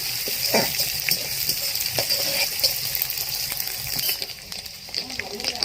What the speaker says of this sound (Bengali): চিংড়ি মাছ দিয়ে আমি 2 মিনিট নেড়ে নেব